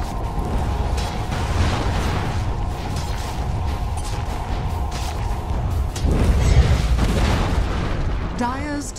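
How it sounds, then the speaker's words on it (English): A tower being destroyed in Dota 2 rumbles with heavy booms and mechanical crumbling over a steady game soundscape, with a surge of impact near the end; an announcer voice speaks over it. "Dire's top tower has fallen."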